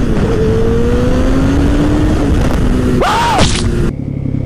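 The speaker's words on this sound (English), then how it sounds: "This YZ450FX Supermoto." A Yamaha YZ450FX supermoto motorcycle engine drones steadily with a loud, close rumble, then its pitch climbs in a short rev as the bike accelerates, with wind noise and no talk.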